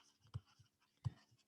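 A pen writes on a board in two short, soft scratching strokes with lighter taps between, close and quiet with no talking.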